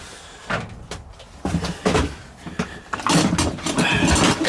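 A cupboard door in a flood-damaged building is pushed open, giving several close wooden knocks and scrapes, then a louder rattling shuffle of movement with no speech.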